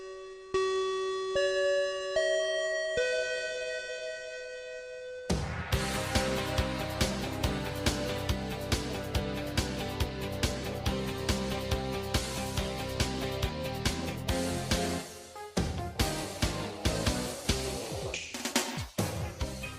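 A chiming bell rings out a few sustained, stepped tones to close an anime club podcast, then a bright, busy music track with steady percussive hits comes in and carries on to the end.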